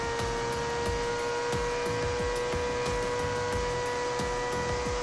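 A Formula 1-style car in the mobile game Car Parking drones in sixth gear, a steady high engine whine with rapid repeating pulses, constant and alone at moderate level.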